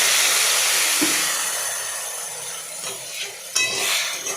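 A little water goes into a simmering puti fish and brinjal curry, and a loud steamy hiss rises, then slowly fades, with a few soft stirring knocks and a sharper clink near the end.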